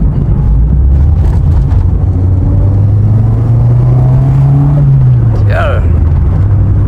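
A VW Citi Golf accelerates hard in second gear, its engine drone climbing steadily in pitch and loudness inside the cabin before easing off, with a brief chirp near the end.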